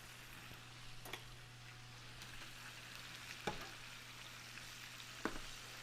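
A steak fillet fries in hot oil for a Sicilian filet, giving a faint, steady sizzle broken by a few sharp pops.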